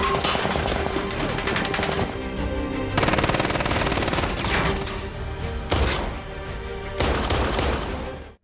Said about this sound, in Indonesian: Terjadi aksi baku tembak dan anak buah Layem menyerang dengan berbagai senjata dan amunisi yang lengkap.